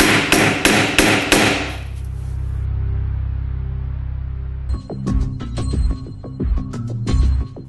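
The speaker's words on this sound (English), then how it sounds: "you can just tap it in with a hammer." Hammer tapping an underdriven nail into Hardie plank fibre cement cladding: a quick series of sharp metallic strikes, a ringing pause, then another run of firm taps, close and loud with no talk.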